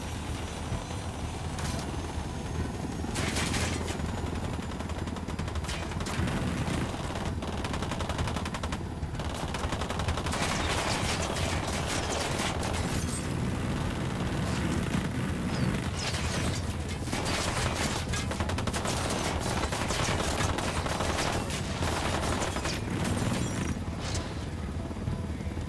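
Dense, continuous gunfire from the video game Ghost Recon Wildlands, with repeated bursts of automatic weapons and loud overlapping shots over a steady rumbling background, sustained for the whole stretch.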